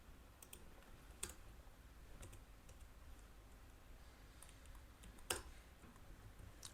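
Scattered keystrokes tapped on a computer keyboard while writing Python code, a few distinct clicks with pauses between them, faint and close over quiet room tone.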